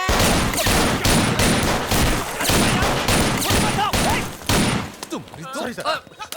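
Film gunfire from a police action scene, with rapid volleys of shots crackling in dense repeated bursts, loud and close, before trailing off into scattered sounds and brief voices at the end.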